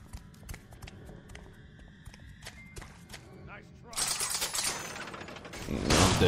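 An explosion in Saw, the PS3 video game: a loud, crackling, rattling blast bursts in partway through, swells again near the end, and follows quieter clicks and taps.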